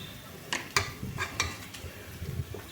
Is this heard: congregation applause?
no